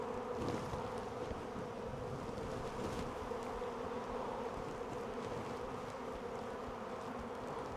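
Bees swarming in a dense, continuous buzzing drone that fills the whole stretch at steady loudness, close and busy with many insects at once and no voices.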